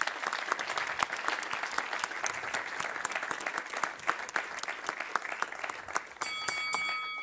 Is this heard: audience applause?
yes